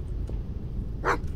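A dog in the horror video game Stay Out The House gives a single short, fairly close bark over a low steady ambient hum.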